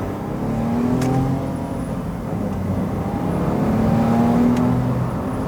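A 2012 Smart Fortwo Cabriolet with a three-cylinder engine accelerates hard from first gear, its engine note rising steadily and then climbing again after a shift, heard from inside the car with a constant whir.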